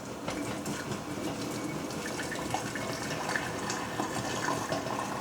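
Homemade cranberry juice is poured slowly from a heavy, hot pot, making a steady, continuous splashing stream of liquid that stays fairly loud and even throughout.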